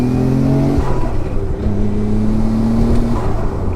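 A 2000s JDM performance car accelerating hard, its engine note rising and holding loud and close with steady harmonic tones and a brief dip mid-run, with no talking over it.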